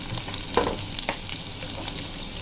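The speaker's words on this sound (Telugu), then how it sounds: "మనం తీసుకున్న మెంతెం కూడా ఇందులో వేసుకొని మంచిగా ఫ్రై చేసుకుందాము." Minced mutton keema and fenugreek leaves stir-fry in a pan, with a steady close sizzle and a few scraping stirs and clinks, and no voices.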